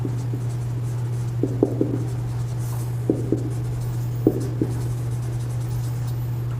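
Marker or chalk strokes on a board while a physics numerical problem is worked out, with short scratchy taps spaced a few seconds apart over a steady low hum, and no talking.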